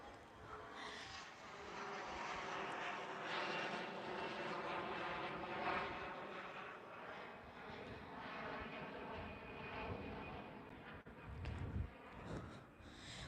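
An airplane departs from Houston's IAH airport, its engine roar sustained and fairly distant for over ten seconds, a broad rumbling drone that swells slightly and then fades, with no voices.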